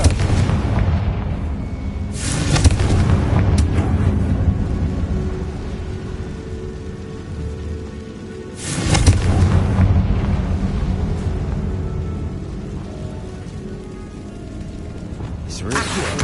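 A Confringo fire spell blasts inside a tomb in the Hogwarts Legacy video game, two heavy booming explosions about six seconds apart, each rising sharply then rumbling on over a continuous low background din.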